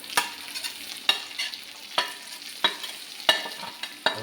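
Nutmeg, ginger, garlic and green chilli stirred in a hot pan for nutmeg pickle, a soft sizzle under regular sharp scraping strokes of a spoon, about one every second, close by with no talk.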